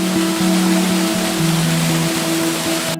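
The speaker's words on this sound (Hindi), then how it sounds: "तभी हमें गूगल मैप पे एक वाटरफॉल दिखा जिसका नाम था गुंडियडका फॉल्स।" Gundiyadka Falls near Mangalore, flowing with enough water in December, gives a steady, loud broadband rush throughout, with tonal music playing over it.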